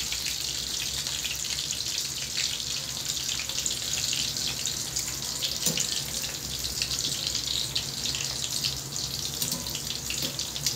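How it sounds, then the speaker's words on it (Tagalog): Chicken breast fillets fry in a pan with a steady, dense sizzle that runs unbroken throughout, close and even, with no speech over it. "Iprito na rin natin."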